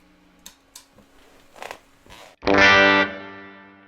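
A heavily aged Gibson Murphy Lab '58 Les Paul played clean through a 1967 Deluxe Reverb amp: a few muted picks and string noises, then one bright strummed chord ringing out loud and decaying.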